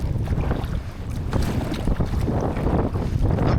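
Strong wind and choppy waves buffet a kayak paddled into heavy headwinds near a marina, a steady loud rushing roar of wind noise and water with no talking.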